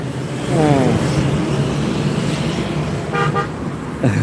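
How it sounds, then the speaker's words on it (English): Cars honking at a peaceful street protest in Austin, a few horn toots rising over a loud, rumbling traffic and wind background, with a brief voice near the end. "People are honking."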